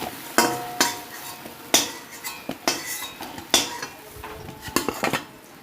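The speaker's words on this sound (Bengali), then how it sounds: "পটলগুলো দেখো লাল লাল করে ভেজে নিয়েছি, এবার সব তুলে নেব।" Fried pointed gourd is lifted out of a pan with a metal utensil, giving sharp, close scraping clinks and taps against the pan at irregular intervals, with faint frying underneath.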